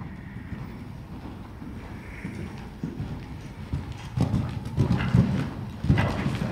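Horses at an equestrian stable on a cross-country event day, their hooves clip-clopping in an uneven rhythm under steady outdoor background noise, with the steps growing louder toward the end.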